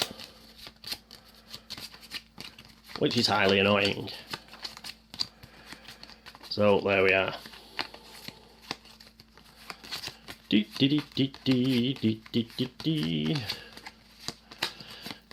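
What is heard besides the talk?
cards being shuffled, three-card shuffle in Arkham Horror board game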